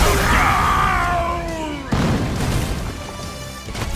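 A synthetic, electronic whine sweeps downward, then erupts into a sharp blast that fades into a hissing, rumbling tail: a proton cannon firing in the fighting game Marvel vs. Capcom: Infinite.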